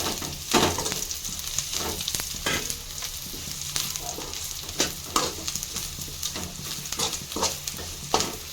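Onions fry with curry leaves and coriander for a Kerala-style fish curry. The oil sizzles steadily and a spoon scrapes and stirs the pan in repeated strokes, close and fairly loud, with no talking.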